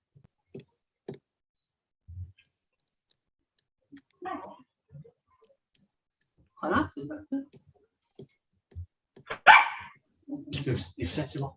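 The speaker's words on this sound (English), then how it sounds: "You've set him off barking again." A dog gives a few scattered barks amid clicks and brief voices, mostly sparse with quiet gaps between sounds.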